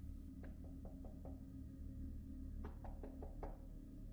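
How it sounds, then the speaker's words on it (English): Soft, quiet knocks on a wooden bedroom door, a quick series of light taps, then a pause and a second similar series, against a low background hum. "delicate knock at my bedroom door"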